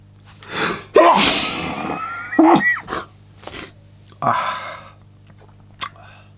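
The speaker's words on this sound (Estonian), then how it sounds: "meil ka vahepeal aevastamine on see krooniline aevastus" Several sneezes from one person in a quiet room, a sharp loud burst followed by smaller gasping sneezes and sniffs spread over a few seconds.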